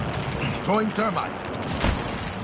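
Gunfire bursts out in the Warzone video game: a few sharp shots crack over a quieter rattle while a player's voice talks over the action.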